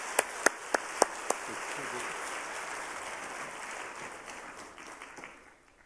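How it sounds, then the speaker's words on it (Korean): Church congregation claps in warm applause at a Wednesday worship service, a dense steady patter that follows a few sharp separate claps and fades out toward the end. "우리 뜨거운 박수로 맞이해 주시기 바랍니다"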